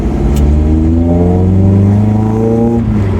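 A Ginetta G40 engine revs up through second gear on a rolling road, rising steadily in pitch and holding loud and close for about three seconds before easing off, with no talk over it.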